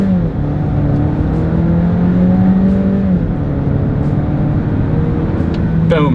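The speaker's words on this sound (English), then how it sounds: "let's see how quickly we can get our new 2026 Volvo XC60 here up to speed" A 2026 Volvo XC60 mild hybrid accelerates hard down a straightaway toward 60 mph, heard from inside as a loud, steady engine drone whose pitch climbs and then shifts with gear changes, under continuous road and wind noise.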